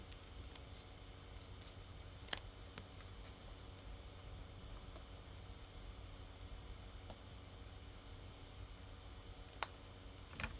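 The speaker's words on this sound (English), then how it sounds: "I'm going to cut that down, and then I'm just going to trim off the sides on the back as well" Paper card piece being cut down and trimmed along the sides for a handmade fruit-pun card, heard as faint, sparse snips and small clicks over a quiet, steady background hiss.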